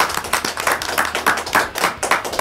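A studio audience claps for a band in a live broadcast studio, producing a brisk, uneven patter of hand claps from a small group, fairly close and steady across the moment.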